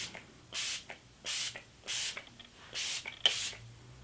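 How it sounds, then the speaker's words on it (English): Makeup setting spray, an illuminating 3-in-1 face mist, fired in about six short bursts of close hissing spray at an uneven rhythm, each pump a distinct puff separated by quiet gaps. "I'm just gonna go ahead and mist my face with this Britman Rock makeup setting spray"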